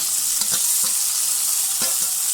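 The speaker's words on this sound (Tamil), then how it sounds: "வெங்காயம் தக்காளி போட்டு நல்லா வதக்கிட்டு" Onions and tomatoes sauté in a pan for a brinjal kara kuzhambu, a loud steady sizzle broken by a few soft stirring clicks.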